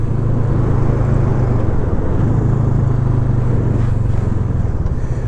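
A 50-year-old Honda CB350 motorcycle riding on a brisk day, its engine droning loudly and steadily with a low throbbing tone and rushing wind noise throughout, no talking.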